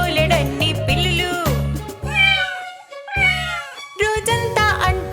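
Several cats meow in a cheerful children's farm rhyme, with repeated close, clear meows and one drawn-out yowl set over a bouncy musical backing.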